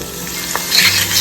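Crushed garlic and curry leaves fry in coconut oil in a pot over medium heat, giving a loud, steady crackling sizzle with a brief stir partway through and no talk.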